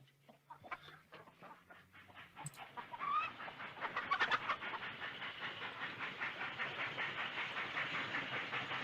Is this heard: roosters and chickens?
yes